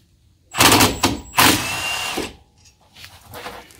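A cordless stubby impact wrench with a low battery spins out brake caliper bolts on a Jeep YJ, two loud, close whirring bursts in quick succession, then fainter rattling tool noise afterward.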